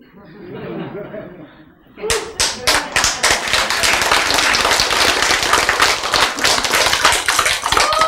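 Hand clapping starts abruptly after a stretch of speech, at first a few distinct loud claps and then quickly building into rapid continuous clapping, close and loud, with a voice underneath.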